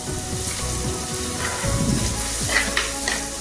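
Two small onions sautéing with a pinch of salt in a hot pan, a steady close sizzle with soft stirring scrapes throughout.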